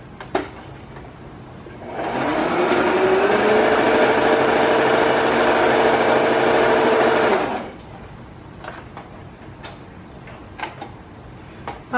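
Sewing machine running a quarter-inch seam through fabric squares for a scrap table runner, one steady whirring run of about six seconds, close and alone with faint clicks before and after.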